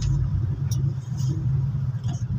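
Steady road traffic rumble heard from inside a truck cab stuck in bumper-to-bumper congestion, with a continuous low engine drone and a few faint higher clicks and hisses passing through.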